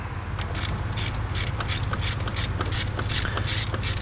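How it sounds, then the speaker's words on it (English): A ratchet wrench with a 13mm socket backs out the bolts holding a power steering pump on an LS engine in a Camaro or Trans Am F-body, giving a rapid, steady run of close metallic clicks with no talking. "he's got a 13mm socket that he's going to take out those 3 bolts that hold the power steering pump together"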